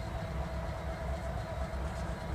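Amtrak trains at the Greenville station, a steady low rumble of rail traffic held at an even level throughout, with no voices over it.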